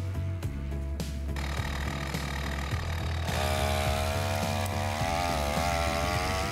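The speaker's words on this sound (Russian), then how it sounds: "дырчик без проблем стартует без помощи педалей" A small gasoline engine fitted to a mountain bike runs continuously, a buzzy, rapid two-stroke-like drone with a slight rise in pitch partway through, close and fairly loud throughout.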